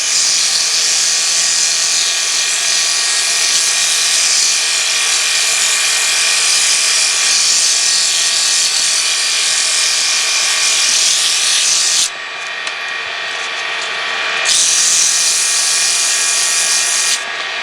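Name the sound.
sanding wood on a spinning lathe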